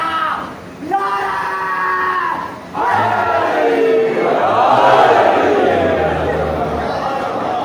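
Religious gathering for a Shia Eid Mubahila celebration where a crowd roars a loud collective shout answering a slogan, a preacher's voice leading in before the massed yelling swells.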